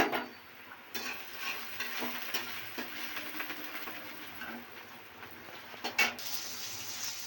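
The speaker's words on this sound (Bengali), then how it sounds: "এবার এই আলুগুলো আমি ভেজে নেব।" Potatoes frying in hot oil in a wok, a continuous soft crackling sizzle with occasional louder stirring knocks and scrapes near the middle and end, heard close and alone.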